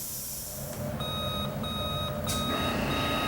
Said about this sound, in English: When the signal sounds to turn the chicken portions, press the timer